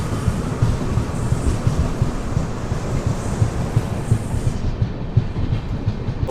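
Intercity superfast express train rolling onto a loop line, a steady loud rumble with rhythmic clickety-clack of wheels over rail joints, heard close from aboard with no talk.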